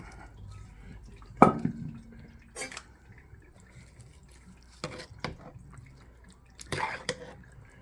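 Canned pinto beans and Bush's beans dumped into a pot and stirred, heard as a few separate wet slops and clanks against the pot between quiet gaps, close and without talking.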